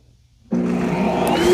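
The docking station of a Shark Matrix AV2310AE robot vacuum kicks on abruptly to auto-empty dust into its bagless bin, a loud steady suction whine and roar that holds close and constant.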